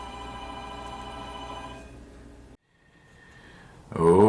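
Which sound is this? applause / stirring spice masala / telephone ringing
telephone ringing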